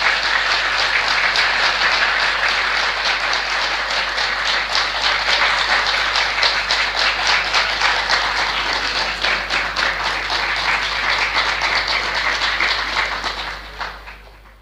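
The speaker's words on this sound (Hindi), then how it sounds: "तालियां ही बजानी है तो अच्छे से बजा" Audience at a spiritual satsang discourse clapping in sustained, even applause over a low steady hum, fading out at the very end.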